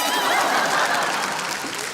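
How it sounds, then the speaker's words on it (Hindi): Studio audience applauding and cheering to welcome comedy host Kapil Sharma at an award show, a dense, steady roar of clapping that stays loud throughout with a few chuckles mixed in. "लेडीज एंड जेंटलमैन, जोरदार तालियों से स्वागत करें"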